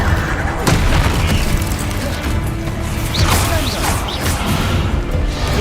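The Incendio fire spell in Hogwarts Legacy erupts as a dense, continuous roar of booming fiery blasts and crackling impacts that fill the whole stretch without a break.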